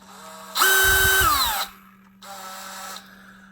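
A power drill fitted with a hole saw whirs in two bursts, the first louder and spinning down in pitch, then a second steadier run after a short pause.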